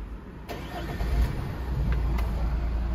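A 2.0 CDTI diesel engine in an Opel Zafira cranks and fires, then settles into a steady low idle that holds close and loud for a few seconds.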